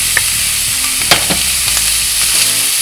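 Minced garlic and diced onion fry loudly in a pan with browned sausage, making a steady, close sizzle with several scraping stirs of a spoon; no voices are heard.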